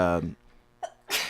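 A single sneeze bursts out near the mic during a podcast, followed by a brief voiced bit and another sharp breathy burst.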